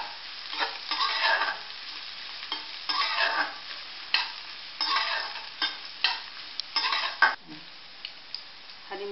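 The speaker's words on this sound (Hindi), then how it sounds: "थोड़ा प्याज और मिर्ची भुन जाए" Sliced onion and green chili frying in a pan for carrot-and-pea semolina upma, steady crackling sizzle broken by repeated bursts of a spoon scraping and stirring against the pan, close and fairly loud, no voices.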